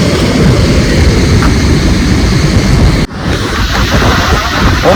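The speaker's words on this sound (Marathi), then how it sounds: "बघू शकता पाणी धबधबे" Water rushes loudly at a waterfall on a rainy trip, a constant roaring wash heavily buffeted by wind on the microphone, with a brief dip near the middle.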